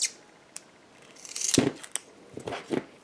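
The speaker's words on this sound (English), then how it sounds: "I cut one piece, and I use an old pair of scissors for this." An old pair of scissors cuts a strip of 3M adhesive tape, making a few short, close snips and crisp rustles against a quiet room.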